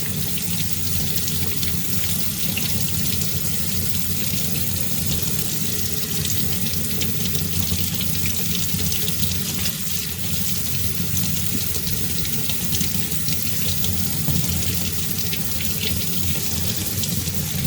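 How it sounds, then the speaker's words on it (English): Warm water runs continuously from a tap while a Simply Shammy is rinsed clean of ink, a loud, close, unbroken splashing rush without speech. "Now I'm going to make the water warm."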